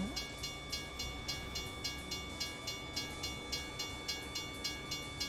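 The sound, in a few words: train passing in video game American Truck Simulator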